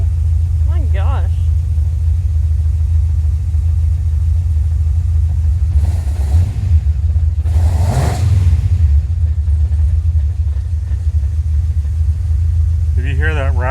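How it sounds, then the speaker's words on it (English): An LS-swapped Datsun 280Z with a twin disc clutch idles with a steady low rumble, swelling into two short revs in the middle, while people talk over the engine noise. "If you hear that rattling noise, that's a clutch. It's got a twin disc clutch in it, so it just kind of rattles."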